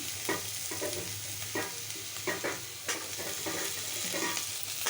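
Pumpkin pieces frying in a pan with jackfruit seed vegetables, a steady close sizzle broken by repeated spatula scrapes and stirring knocks at an uneven rhythm.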